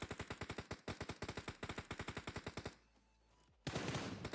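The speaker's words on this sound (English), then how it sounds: "Oh, I can't believe neither one of those shots hit." Rapid automatic gunfire from a video game tournament rattles in a fast, even burst for nearly three seconds, then a brief lull before another loud, dense volley.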